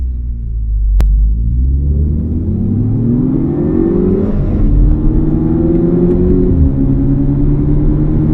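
A Mk6 VW GTI turbo engine revs up steadily with a deep rumble and rising whine as it accelerates hard, loud and close, with a brief click near the start.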